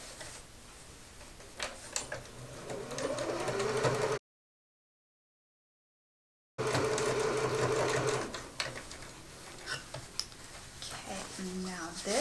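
A sewing machine stitches the base of a commuter tote bag to its side in two rapid, buzzing runs of stitching, close and clear, separated by a few seconds of silence.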